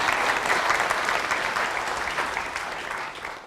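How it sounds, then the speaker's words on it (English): An audience claps steadily in a lecture hall, a dense, even patter of applause that holds for a few seconds and then starts to fade. "Another round of applause for a job well done."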